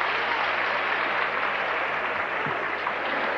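Spectators at the 1981 US Open ladies' semifinal applaud around a break point, a steady wash of crowd clapping at moderate distance, even in level throughout.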